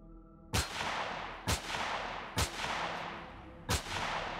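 Four sharp sniper rifle shots ring out in Empyrion, Reforged Eden 2, spaced about a second apart, each a loud crack trailing into a short decay over a low steady background hum, with no talk.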